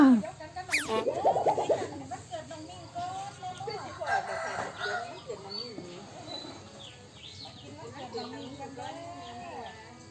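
Chickens clucking and a rooster crowing, with a short crow near the start followed by scattered clucks and calls from nearby birds, while people talk over them throughout.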